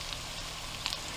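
Potatoes and corned beef hash from leftover pressure cooker brisket frying in a pan, a steady close hiss of sizzling with a few small pops and spits, no voices.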